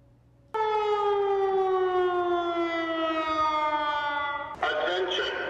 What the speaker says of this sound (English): The UNC Department of Public Safety tested the new siren alert system.